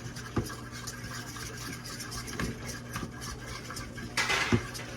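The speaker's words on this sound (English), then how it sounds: "And then this just gets stirred together." Marinade of soy sauce, Worcestershire sauce and salt being stirred together in a bowl, faint clinks and light scraping of a utensil with a few sharper taps, over a quiet background hum.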